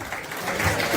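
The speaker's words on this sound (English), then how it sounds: "Keep the applause going" Audience applause at a live Coventry City FC podcast event, a short dense wash of clapping that swells slightly toward the end.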